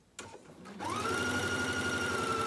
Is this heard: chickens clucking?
no